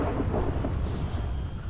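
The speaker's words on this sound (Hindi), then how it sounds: "ओहो कितनी ज़्यादा बारिश हो रही है" Heavy rain roaring steadily with a deep rumble of thunder through a stormy scene in the GTA V video game, loud and continuous without any voices.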